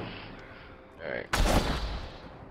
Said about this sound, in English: I got the shotgun out again. It was effective.